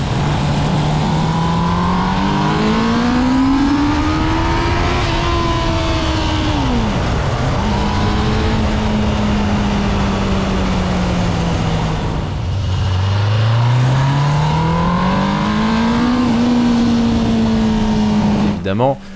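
An old Suzuki GSX 600F motorcycle engine pulls loudly and close while riding, its pitch rising smoothly through the revs, dipping at gear changes, then climbing again, with talking over it.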